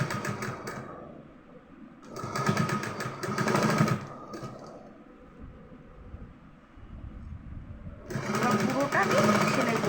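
A sewing machine stitches a teddy bear in short bursts of fast rhythmic whirring, loud and close, with quieter pauses between them where a voice is speaking.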